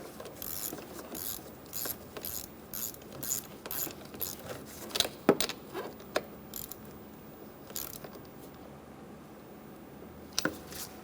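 Ratchet clicking in repeated short bursts while tightening a battery terminal on a 2003-2007 Honda Accord, close and fairly quiet, with small metallic clunks between strokes.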